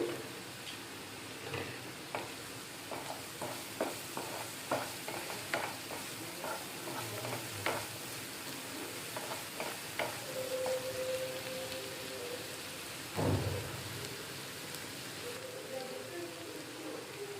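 Goat brain browning in a frying pan, a steady crackling sizzle with scattered stirring scrapes and clinks throughout, fairly quiet and close, with a louder clatter near the end.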